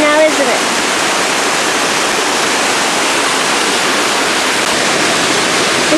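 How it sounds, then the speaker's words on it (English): Loud, continuous roar of rushing water, like a nearby waterfall or rapids, steady broadband noise filling the whole stretch, near Loch Katrine in Scotland. "You can kind of see the rushing water down there"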